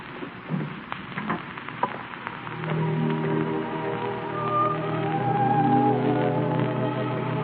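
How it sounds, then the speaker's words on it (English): Heavy rain sound effect from an old-time radio drama, a steady hissing downpour that thickens and grows louder partway through, with low hum and a sustained musical tone beneath, no talk over it. "It's raining. It's raining awfully hard."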